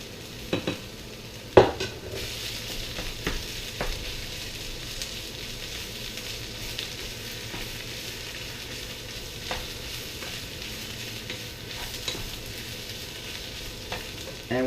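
Spinach and onions sauté in a pan with a steady gentle sizzle, punctuated by scattered clicks and taps of a utensil stirring against the pan, with one louder clatter early on.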